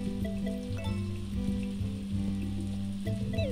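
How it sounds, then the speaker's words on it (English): Steady hiss of rain from the farming game Story of Seasons: A Wonderful Life, a continuous wash running the whole time beneath a layered tonal game music bed, with no talk. "Well, it's raining, guys."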